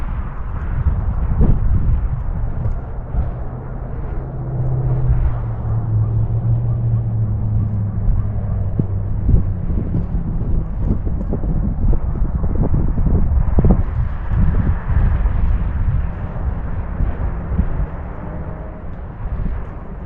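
Steady wind roars and buffets a microphone in Peace River, Alberta, a constant low rumble with gusty surges throughout, no voices.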